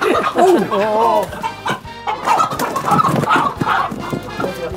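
Several chickens cluck loudly nearby in a farmyard, with repeated choppy calls and a few drawn-out squawks, mixed with occasional human voices.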